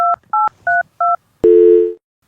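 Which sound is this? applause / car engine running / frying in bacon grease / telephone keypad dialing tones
telephone keypad dialing tones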